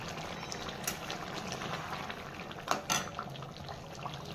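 Country chicken sautés over a low gas flame, a quiet, steady sizzle and bubbling in the pan with a couple of brief clinks of utensils against the metal.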